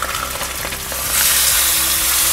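A salmon fillet sizzles in a frying pan as it cooks and is turned over, giving a steady dense crackle that grows louder partway through.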